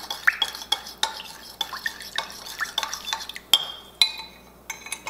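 Cornstarch being stirred into steak in a pan, with a utensil scraping and clinking against the metal in irregular strokes, close and moderately quiet, with a faint sizzle beneath and no talking.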